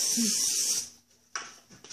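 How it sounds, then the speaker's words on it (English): Pan spray hisses from a can into ramekins in one loud, bright burst lasting almost a second, then two short, softer puffs follow. "We're actually going to spray these out first. Take a little bit of pan spray."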